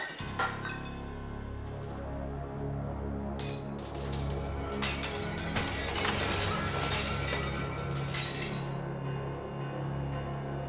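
Dishes and glasses smash and clink repeatedly in a kitchen, a dense ongoing clatter of breaking crockery with sharp bursts over a steady background.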